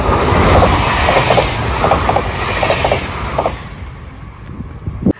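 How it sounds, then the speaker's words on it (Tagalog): Passenger train rolling through Finland, heard from inside the carriage: a steady loud rumble with rhythmic clicking from the wheels, easing off toward the end, with no talking. "In my train."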